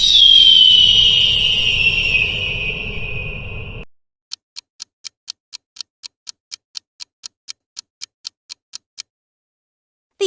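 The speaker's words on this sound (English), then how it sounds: "A hawk screeches." A hawk screeches in one long, loud, descending cry, then cuts off. A steady series of faint ticks follows in silence.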